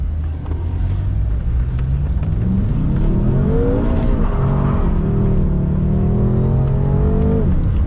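A BMW M5 engine revs hard while drifting, its pitch climbing and falling in loud sweeping waves with tyre and road noise heard from inside the car throughout.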